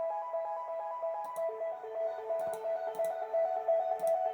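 A synth line treated with EQ and reverb rings out alone as steady sustained tones, with soft percussive ticks scattered through it and no voices.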